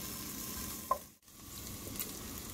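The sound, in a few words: bacon frying in its own fat in a pan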